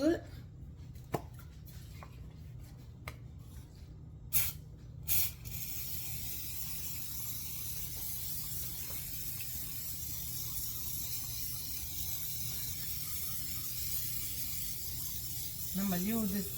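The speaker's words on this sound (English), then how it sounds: "I'm going to spray it down real good." Cooking spray hisses onto a pan in a steady broadband stream for several seconds after a few brief clicks and taps, close and continuous, with a low rumble underneath.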